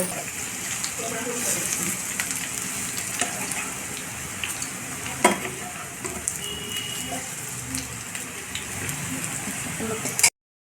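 Red chillies frying in hot oil, giving a steady close hiss and crackle that runs unbroken for about ten seconds, with scattered pops, before stopping abruptly.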